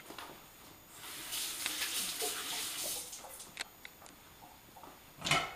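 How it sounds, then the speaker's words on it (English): Hands being washed under a running kitchen tap, a soft, fairly quiet hiss of flowing water for a couple of seconds, then scattered small knocks and a brief louder splash near the end. "Just wash my hands."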